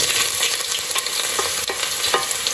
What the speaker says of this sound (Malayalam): നമ്മൾ ഇഞ്ചി വെളുത്തുള്ളി ഇട്ട് കൊടുക്കുകയാണ്